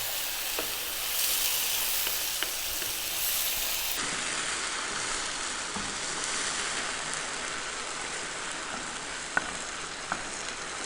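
A garlic, mushroom and tomato sauce simmers in a pan, giving a continuous close hiss and sizzle with faint bubbling and an occasional soft clink.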